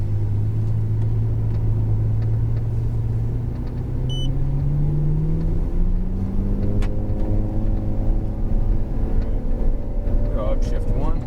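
A Ferrari F12 pulling out onto a racetrack in first gear, its engine a loud, steady low rumble that rises gradually in pitch as it moves off, with people talking over it throughout.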